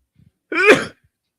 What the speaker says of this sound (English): Crazy sneeze.